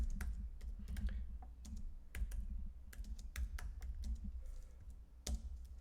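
Someone types on a computer keyboard as a steady stream of close, crisp key taps, with a few louder strikes mixed in and no talking.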